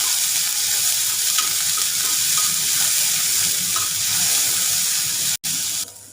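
Chopped big onion sizzling in hot oil in a pan, a steady close hiss of frying that holds throughout, briefly cutting out near the end, with no talking.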